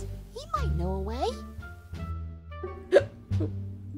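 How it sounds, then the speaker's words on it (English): A cartoon character hiccups in a bouncy, squeaky voice over background music. Sharp hiccups come about every second, several in a row, mixed with pitch-swooping vocal sounds. "They must be very strong hiccups"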